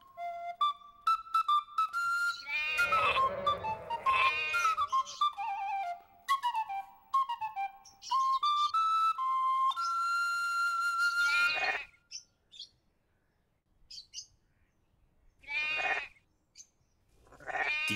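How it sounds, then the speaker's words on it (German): Cartoon scene where a shepherdess plays a short melody on a shepherd's flute to call her flock, answered by sheep bleating; bright tuneful whistling notes come first, followed by several separate bleats near the end with pauses between. "Sie spielt eine kleine Melodie und ruft damit die Schafe zu sich."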